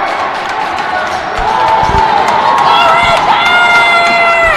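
A hockey crowd at a high school boys varsity game between Forest Lake Rangers and Roseville Raiders cheers loudly and steadily in an arena, with whistles and thumps from the rink under the noise.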